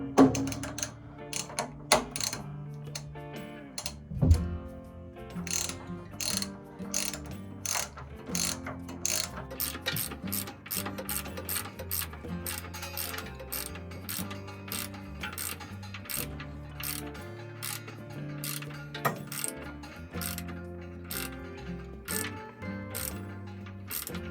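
Anode rod being screwed into a water heater, heard as a long run of rhythmic metallic ratchet clicks from a wrench, steady and close, with a louder clank near the start and no speech.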